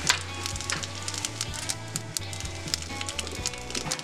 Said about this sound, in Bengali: তেজপাতা, শুকনো লঙ্কা আমি ফোড়ন দিচ্ছি, আর দিয়ে দেবো কিছুটা গোটা জিরে।